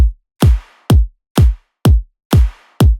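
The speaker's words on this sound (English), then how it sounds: "I've just layered 3 different claps." Three layered clap samples mixed with deep kick thumps repeat in an even groove, each clap with a slightly different fade tail, loud and dry.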